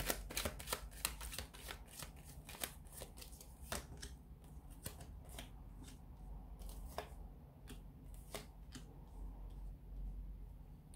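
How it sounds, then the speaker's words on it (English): Tarot cards being shuffled by hand, a steady run of crisp riffling snaps and slaps close up, with soft papery rustling between them and no talking. "So we'll give the cards a shuffle here"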